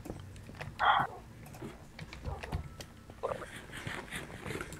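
A dog gives one short, fairly loud bark near the start, with household clicks and low background noise around it, in a home with several dogs including a Saint Bernard.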